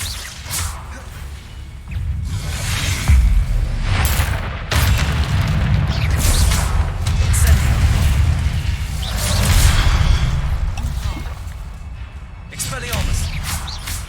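Expelliarmus disarming spells cast in Hogwarts Legacy, a run of booming magical blasts and whooshes recurring through the fight, loud and close, with a voice calling out spell names over them.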